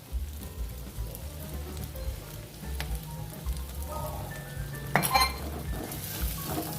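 Whole spices, ground cinnamon, clove, cardamom and shahi jeera, tipped into a hot pan of oil for Hyderabadi bagara rice, giving a steady low frying sizzle with light stirring and a brief clatter near the end.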